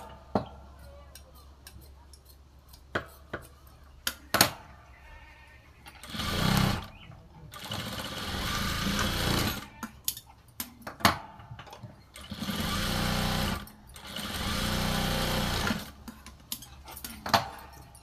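Sewing machine stitching a half-inch hem on a blouse panel, running in several sustained bursts of steady whirring separated by clicks and handling sounds, close and fairly loud.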